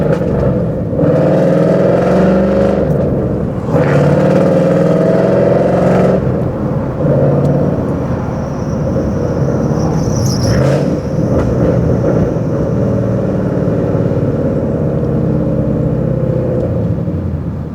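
A Ford Mustang GT's engine drones loud and steady with a low rumble that swells and eases, a brief higher whine cutting in midway; no voices.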